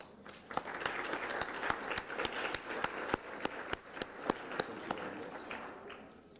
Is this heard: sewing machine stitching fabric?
no